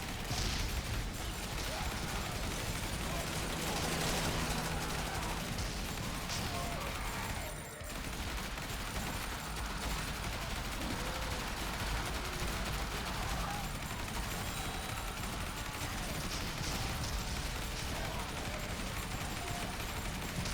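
Shotgun blasts and constant weapon fire rip through a zombie survivors video game, a dense, loud barrage of gunfire and bursts under game noise with no clear pauses.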